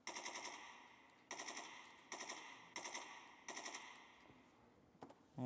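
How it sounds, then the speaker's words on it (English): Full-auto gunfire from a rifle in the video game Escape from Tarkov rattles out in five short, rapid bursts separated by brief pauses, crisp and fairly close, followed by a faint mechanical click at the end. "Switching to full auto."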